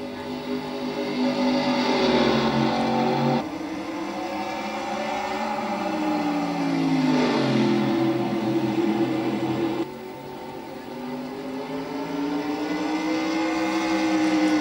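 Race cars lap Bristol in the NASCAR Racing 2003 video game, their engines droning steadily with rising and falling pitch as they circle, sustained and fairly loud with cuts between cars.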